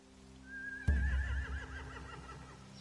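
A single horse neighs loudly with a long quavering whinny in a video game, preceded by a rising whistle-like tone and a low thud, over a faint steady hum.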